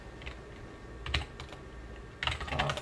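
Short bursts of typing on a computer keyboard, a few quick clusters of soft key clicks, close by against quiet background.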